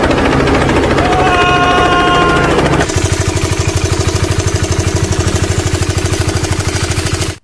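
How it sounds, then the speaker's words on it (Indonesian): A Honda CBR150R with the K56 engine idles loudly and steadily at close range, its rapid rhythmic pulsing carrying a metallic chain rattle from the cam chain tensioner after a brief higher whine at the start. "Semua motor yang pakai mesin K56 ini identik banget dengan suara kemericik rantainya."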